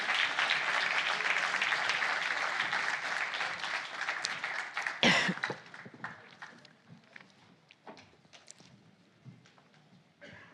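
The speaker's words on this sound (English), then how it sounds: "And they deserve a round of applause" An audience applauds young farmers gathered on stage at an EU agriculture event, with sustained clapping for about five seconds that thins into scattered claps, shuffling and footsteps.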